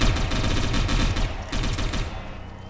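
Rapid automatic gunfire crackles in sustained bursts during a firefight in the cyberpunk tactics game Satellite Reign, with a short pause before a second volley and a fading tail at the end.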